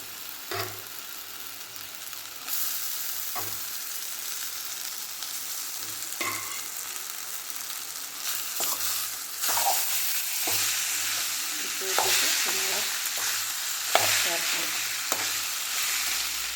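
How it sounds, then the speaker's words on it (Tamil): Leftover rice is stirred into sautéed onions in a frying pan, a steady sizzle with repeated scraping strokes of the spoon against the pan, close and continuous. "வெங்காயம் நல்லா வதங்கிடுச்சு நம்ம கொஞ்சமாக சாப்பாட்டை சேர்த்துக்கலாம்"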